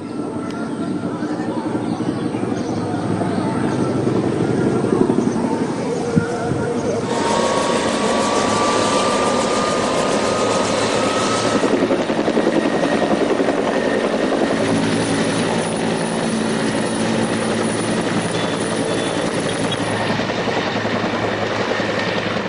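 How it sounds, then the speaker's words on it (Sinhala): An Air Force Bell 212 helicopter flying to fight a mountaintop fire drones continuously with a loud, steady rotor and engine roar throughout, sounding fairly close and unbroken by talk. "ගුවන් හමුදාවේ බෙල් 212 ගුවන් යානයක් ගින්න නිවීම සඳහා පැමිණ තිබෙනවා"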